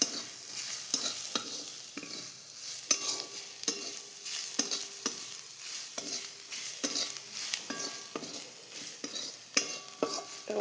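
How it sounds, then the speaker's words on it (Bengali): Ground garam masala with clove, cardamom and cinnamon stirred and fried in a pan for chicken kosha, a soft sizzle under rhythmic scraping strokes of a spoon against the pan, close and moderately loud. "মশলাটা দিয়ে একটু কষে নেব।"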